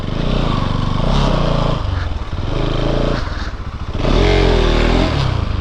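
A motorcycle labours over a rough, rocky road, its engine revving up and easing off in uneven surges, with rattles and scrapes from the bumpy ground, loud and close throughout.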